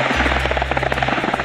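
A rescue helicopter hovers low overhead, its rotor producing a loud, fast, rhythmic chopping beat over a steady engine drone.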